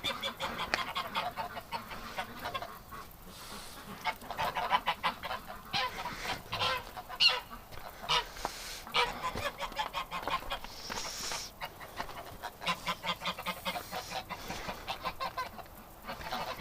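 A flock of geese honks continuously at close range, overlapping harsh calls with brief lulls between bursts.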